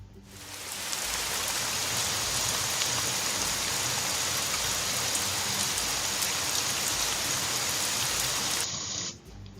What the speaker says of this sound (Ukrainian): Правильно, це Дощ.